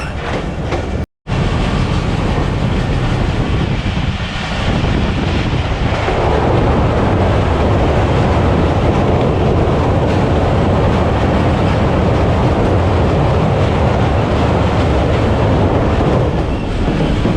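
Pakistan Express passenger train on the Multan to Rawalpindi line rolling over the rails, a loud, steady broadband rumble with clickety-clack and wind buffeting close to the microphone, briefly cut out near the start.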